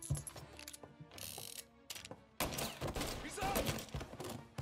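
Glock pistol shots ring out in the Mafia game, a quick burst of sharp reports mixed with clicking, mechanical in-game effects and a busy, dense background.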